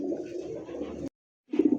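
A black nun pigeon coos close up in two bursts, a longer throaty rolling coo and then a short pulsing one after a brief silence.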